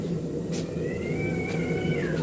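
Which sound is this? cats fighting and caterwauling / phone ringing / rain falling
cats fighting and caterwauling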